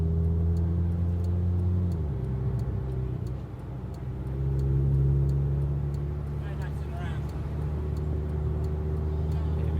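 A Porsche RS60 Spyder's engine drones steadily and up close while driving, dipping briefly as the revs change and then rising again, with a faint regular ticking and a voice talking over it.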